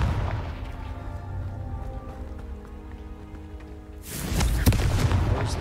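The Confringo fire spell in Hogwarts Legacy sounds as a low rumbling hum with tonal ringing. It ends in a sudden burst of crackling blast noise, fairly loud, with no voices.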